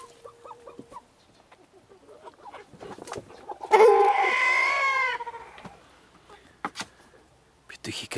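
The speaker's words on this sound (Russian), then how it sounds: "Петухи кричат." Roosters crow loudly at close range in a farmyard, one long strained call dominating the middle, surrounded by scattered clucks, thumps and rustling from the flock before and after.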